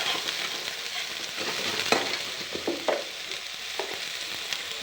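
Tomatoes sizzle steadily in a pan over low heat, with a spoon or spatula scraping and stirring through them in occasional soft knocks; no talking.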